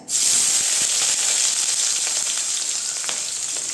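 Dry red chillies and onion go into hot oil in a Bengali brinjal dish, giving a loud, steady, close sizzle that holds evenly for a few seconds with no talking.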